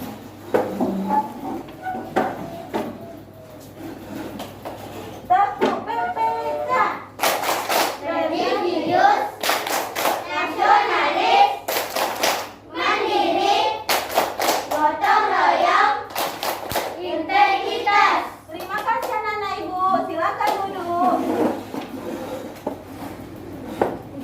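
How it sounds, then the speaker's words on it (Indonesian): A classroom of children performs a rhythmic clapping chant, sharp claps in quick patterned bursts mixed with children's voices chanting together and a teacher talking, loud and close in an indoor room. "kita akan tepuk PPK"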